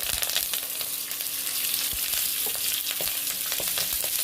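Curry leaves crackle and sizzle in hot oil in a pan while vermicelli is being prepared, a steady bright frying hiss with scattered sharp pops and occasional stirring clinks throughout.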